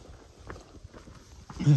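Soft footsteps crunch along a rocky Continental Divide Trail section at a steady walking pace, faint and close, with a brief louder rustle at the end.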